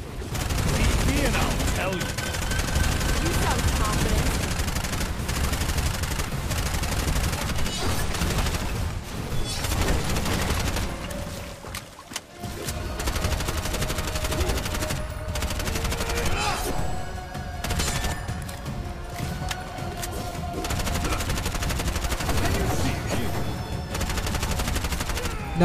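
Rapid bursts of gunfire with special bullets in the Bright Memory: Infinite video game, dense repeated shots and impacts over game music and effects, loud and sustained with a brief lull midway.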